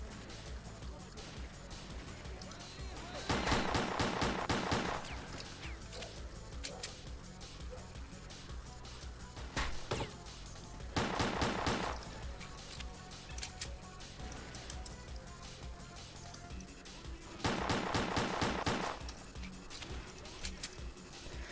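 Stalker gunfire picking off bandits: three loud bursts of rapid shots, separated by quieter stretches with a single sharper shot between them, a voice talking over the background.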